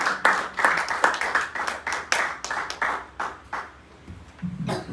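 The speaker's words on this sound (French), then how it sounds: "Nous applaudissons la présence de Dieu dans la vie serviteur." A church congregation claps in a brisk, uneven burst of applause during a Sunday service that thins out and stops, followed by a faint low sound.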